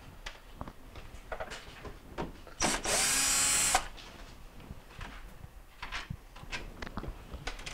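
A powered screwdriver backs out Phillips screws holding the grill on a GE microwave, one loud whirring burst of about a second, close by, surrounded by quieter clicks and handling taps.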